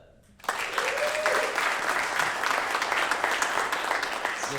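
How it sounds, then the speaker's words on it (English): An audience at a marketing panel in Austin bursts into applause after a brief quiet moment, sustained clapping from many hands continuing steadily to the end. "we need to applaud that"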